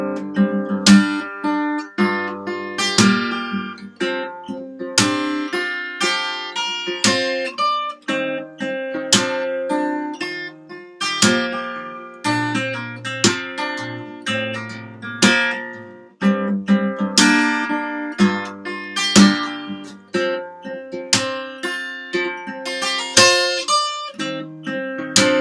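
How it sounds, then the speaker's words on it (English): Acoustic guitar playing the chorus of a song slowly, with steady plucked and strummed notes and chord changes throughout, close and clear with no singing or talking. "Okay, so the chorus, play the whole thing slow for you."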